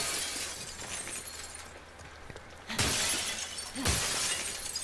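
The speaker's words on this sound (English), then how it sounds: "the glass smashing is so intensive" Windows smash in the video game The Last of Us: two loud, sharp bursts of shattering glass about a second apart, each with a tinkling tail, over a low ambient background.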